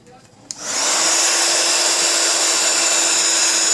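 Heat tool blasting hot air onto acrylic for a card craft, switching on with a click and rising into a steady, loud whooshing hiss with a high whine that holds without pause.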